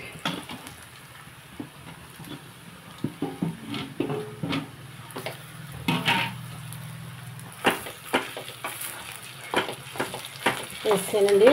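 Potatoes and onions frying in a pan while being stirred and mashed, a dense sizzle under repeated scraping and clanking of a spoon against the pan, with a faint voice now and then.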